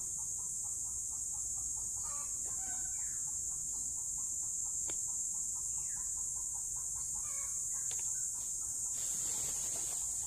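Hens and a rooster cluck outdoors in a rural yard, a series of short, faint, distant calls that repeat through a steady insect buzz, with no voices.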